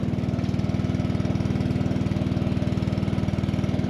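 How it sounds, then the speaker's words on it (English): A small motor that runs a fertilizer pump on a corn planter idles with a steady, rapid, even chug, loud and close throughout, with no talk over it. "Dad got the motor started, a little bit of gas, primed it up, started right up."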